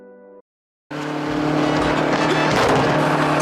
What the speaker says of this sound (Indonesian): ada mobil melaju dan menabraknya